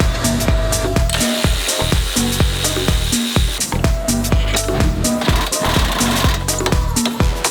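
Rapid bursts of an impact or pneumatic wrench rattle on a lower strut bolt of a Nissan 370Z during a coilover install, loud repeated hammering pulses separated by short pauses.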